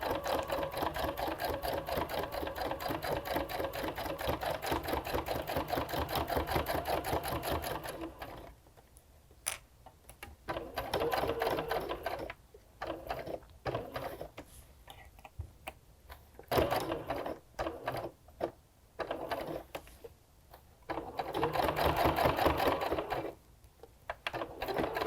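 A sewing machine stitches a log cabin potholder, running in a fast steady whir for several seconds, then continuing in short stop-start bursts with pauses as it pivots at the corners.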